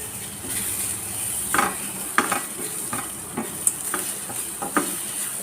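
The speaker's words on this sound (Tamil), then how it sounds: "தேங்காய் வந்து நல்ல செவக்க வறுத்துருவோம்." Grated coconut roasts in a pan for a kadala curry masala, a low dry sizzle under a run of spaced scraping stirs and light utensil knocks against the pan, close and without speech.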